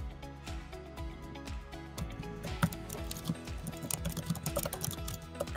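Keys clicking on a computer keyboard while a save name is entered in property management software, close and fairly quiet, starting as spaced taps and quickening into a busy, uneven patter of keystrokes with no one talking.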